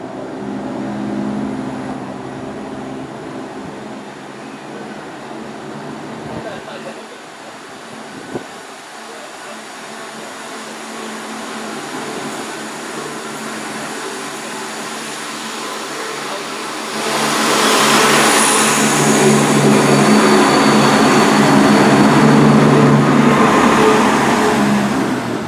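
An Abellio Greater Anglia Class 172 diesel unit, 172006, pulls out of Ipswich station on the 13:20 service to Cambridge, its engine droning steadily close by, then swelling louder as it accelerates away.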